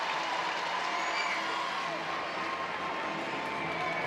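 An energetic crowd in the Lloyd Noble Center gymnastics arena cheers and applauds steadily after an Oklahoma Sooners rotation on bars, a dense continuous roar of clapping and voices with no letup.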